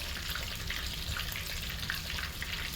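Chicken frying in oil heated to about 330 degrees gives a steady, dense crackling sizzle that runs without a break from start to finish, close by and fairly loud, with no talking over it.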